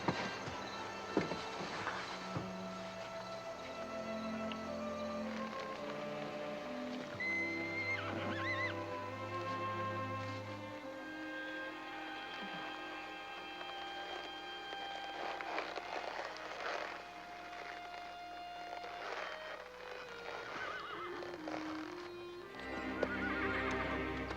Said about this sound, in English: watch them drive the ponies back through town for their swim back